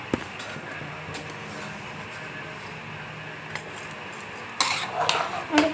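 A spoon scrapes and clinks in a pan while kaalu gojju is stirred after salt goes in, with faint sizzling underneath and a louder burst of clattering near the end.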